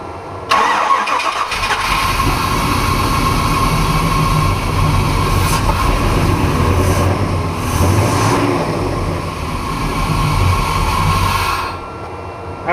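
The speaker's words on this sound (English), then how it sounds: "let's get her to turn over and see what we got" Engine of a '55 Chevy body on a 2006 GMC chassis, running on temporary fuel pump power, cranks and fires, then runs loud and steady at close range for several seconds before cutting off.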